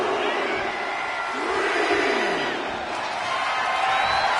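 A wrestling arena crowd in the WWE 2K26 video game roars and cheers with rising whoops, a dense, loud wash of voices that swells and holds throughout.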